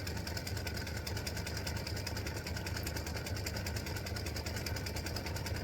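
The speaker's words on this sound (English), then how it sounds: "color number 8 stitches a satin stitch across the top of the board" An embroidery machine sews a wide satin stitch across a tic tac toe board, a rapid, even mechanical chatter that runs continuously and close with no voices.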